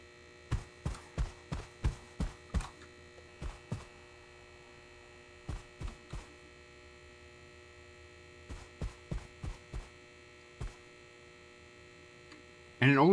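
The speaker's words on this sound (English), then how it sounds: "I don't know how accustomed I am to the sound of fluorescent lights" A steady electrical hum from fluorescent lights fills a quiet room in an anomaly-spotting video game, continuous and even, broken by clusters of soft, sharp taps and a brief louder noise at the end.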